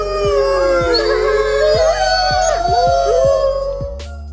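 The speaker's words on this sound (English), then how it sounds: "A single gray wolf can howl up to 90 decibels." A gray wolf howls in a long, loud, wavering tone that stays close and dominant, with other overlapping voices joining and a series of rhythmic clicks underneath before it fades at the end.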